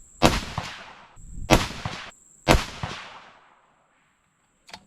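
Three loud rifle shots fired through a TMB Chad muzzle brake ring out about a second apart, each a sharp crack with a lingering outdoor echo, then a faint click at the end.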